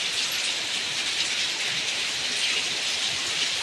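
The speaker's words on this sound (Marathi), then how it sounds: "सकाळी सकाळी खूप पाऊस आहे. हे गच्चीचं पाणी पडतंय इथून." Downpour on a rainy morning, runoff from a rooftop terrace spilling down in a continuous broadband rush, steady and close, without talk.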